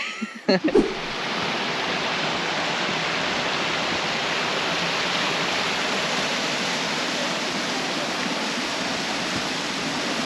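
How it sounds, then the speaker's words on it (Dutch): Water rushes steadily over a shallow creek bed flowing toward Lake Ngakoro at Waiotapu thermal park, New Zealand, a constant broad hiss after a brief knock at the start. "Vanaf hier stroomt het water in een ondiepe kreek naar Lake Ngakoro."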